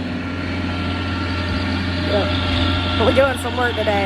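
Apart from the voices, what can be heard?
tractor engine running in the background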